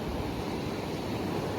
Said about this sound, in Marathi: बघा लाटा बघा गाईच किती मोठे मोठे.